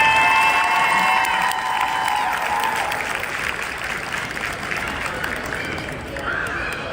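A crowd in a high school gym applauds and cheers loudly for senior girls basketball players on senior night, a dense steady roar that gradually thins out, with a voice heard faintly beneath.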